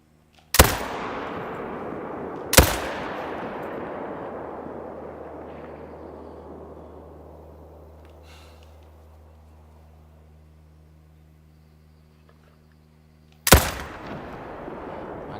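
Three loud, sharp gunshots in a deer hunting game, two close together near the start and a third after a long pause, each followed by a long rolling echo that decays slowly over a low steady hum.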